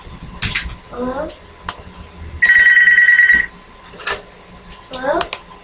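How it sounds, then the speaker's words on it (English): Single sustained electronic telephone ring lasting about a second, loud and close, between short bursts of someone talking and clattering handling noises. "Sorry about that little phone ring there."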